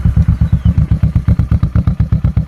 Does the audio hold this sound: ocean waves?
no